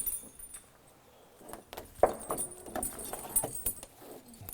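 Metal tire chains rattle and clink as they are slowly lowered over a truck tire, a run of irregular jangling hits with a sharper clank near the middle, close by and moderately loud.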